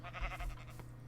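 A Minecraft sheep bleats in a hardcore survival cave run, a wavering nasal cry over steady low game hum, heard at moderate distance with no talk over it.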